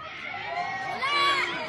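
A crowd at the grand opening of a Diwata Pares eatery shouts and cheers together in a brief, loud, dense burst of voices.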